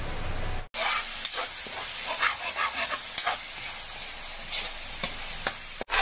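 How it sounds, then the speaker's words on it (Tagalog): Ground beef frying in a pan for baked spaghetti, giving a loud, steady sizzle with occasional scraping stirs and brief clatters up close. "So habang niluluto natin yung ating ground beef dito"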